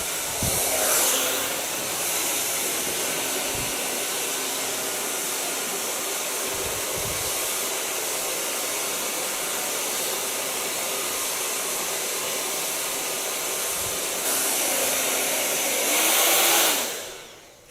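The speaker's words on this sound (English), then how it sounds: "you can hear the hardest position of the blow dryer" Blow dryer running on its hardest setting during curly hair styling, a loud steady close-up roar that holds for the whole stretch, with brief dips and a final surge before cutting off.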